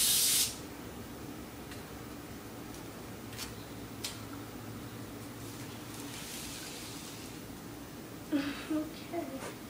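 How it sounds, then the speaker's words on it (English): One short, sharp burst of aerosol spray starch onto cardboard opens the clip. Quiet room tone follows, with a few faint clicks and soft voices. "Next trial was cardboard with spray starch on it."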